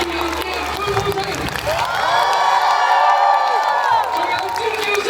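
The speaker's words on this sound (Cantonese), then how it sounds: "最熱烈嘅歡呼聲，" Parents and children at a kindergarten event cheer loudly as a crowd, a sustained swelling roar of voices with whoops and some clapping.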